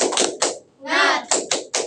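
Classroom pupils doing a rhythmic cheer clap, sharp grouped bursts of claps in a patterned beat broken by a brief chanted voice in the middle, close and fairly loud.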